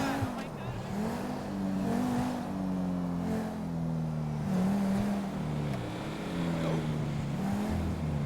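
A video game car engine drones and shifts pitch as the vehicle drives along, a steady loud hum rising and falling with the revs, with some talk underneath.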